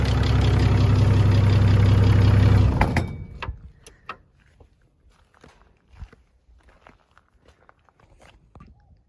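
A noisy car AC pump converted for other use runs with a loud, steady mechanical whine and hum, then cuts off after a few seconds, leaving faint scattered clicks and taps in quiet.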